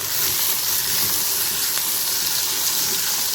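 Onions sauté in hot oil with a steady, close, continuous sizzle and hiss lasting the whole stretch, with no voices.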